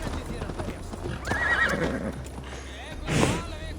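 Horse hooves clip-clop in Assassin's Creed Valhalla, the in-game mount trotting steadily under background speech and game noise, followed by a loud neigh near the end.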